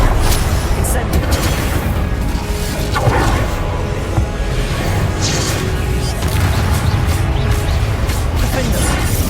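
A fire spell cast in Hogwarts Legacy on PS5, a dense, continuous roar of game combat with booming crackles and bursts sustained loudly throughout, mixed with voices.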